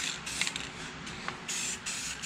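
Bursts of spray hissing from an aerosol spray paint can, several short blasts with brief pauses between them, close and steady.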